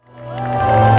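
An audience at a university festival cheers and applauds, a dense crowd roar that swells steadily louder over about a second.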